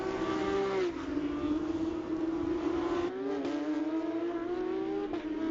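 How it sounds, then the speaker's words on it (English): Porsche 992 Cup race cars with 4-litre naturally aspirated flat-six engines rolling on a formation lap at Zhuzhou, a steady droning engine note that dips and rises with gear changes, heard alone at moderate distance. "The 992 Cup car still using that 4-litre flat 6 normally aspirated engine"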